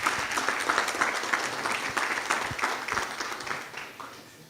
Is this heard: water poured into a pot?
no